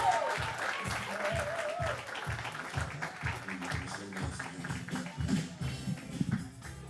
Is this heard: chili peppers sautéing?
no